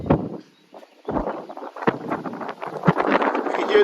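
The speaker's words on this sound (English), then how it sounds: "You can hear the wind just howl." Stormy wind buffets and roars across the microphone in uneven gusts, with a brief lull before it surges back, loud and close.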